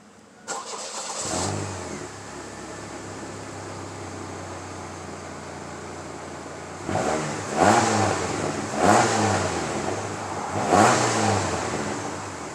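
A car engine cranks and catches, then idles steadily before revving up three times in quick bursts, loud and close.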